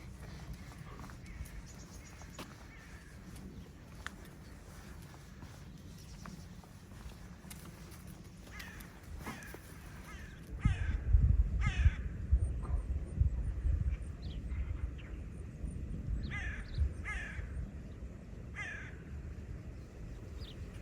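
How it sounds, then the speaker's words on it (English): Crows cawing in early spring in Brienz am See, Switzerland, with repeated harsh calls at mid distance over outdoor ambience, along with a stretch of nearer crunching footsteps and rustle in the second half. "some birds are already in spring mood"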